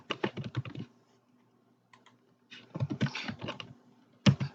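Fingers tap rapidly on a computer keyboard while information is entered, close and fairly quiet, in two bursts of quick clicks separated by a pause of near silence, with a sharper final keystroke.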